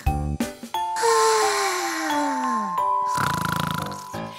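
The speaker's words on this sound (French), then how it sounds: "Pendant que Boucle d'Or ronflait" A cartoonish snore in a French telling of Goldilocks and the Three Bears, with sliding whistle-like tones, chimes and a long rasping breath, alone without speech.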